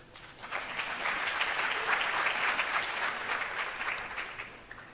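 Audience applause at a launch event for 4IR centres of excellence, a dense wash of clapping that swells in, holds steady for several seconds and gradually thins, fairly distant and alone without talk.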